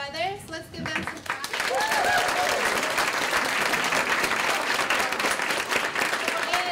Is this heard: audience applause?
yes